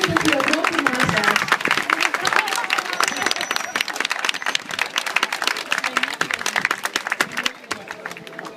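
A large audience at a dolphinarium show claps loudly and steadily, a dense wash of applause with crowd murmur running the whole time and tapering slightly at the end.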